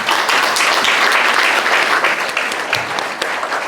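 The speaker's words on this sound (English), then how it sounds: "Can we get one more round of applause for that?" Audience applause at a community charity gala, loud, dense clapping from a large crowd sustained throughout, easing slightly toward the end with a few scattered sharper claps standing out.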